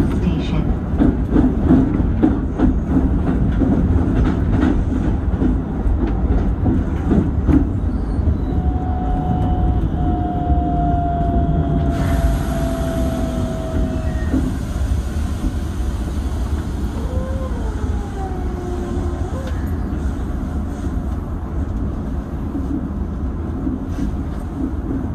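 A Keikyu 1500 series train runs at 120 km/h, a continuous loud rumble of wheels and motors with brief squeals and rattles throughout, heard from inside the train.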